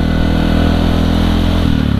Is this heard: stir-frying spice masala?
no